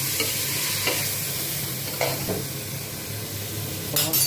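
Tomatoes and onions frying and being mashed in a pan, with a constant loud sizzle and repeated scraping stirs of a spoon across the pan, close up.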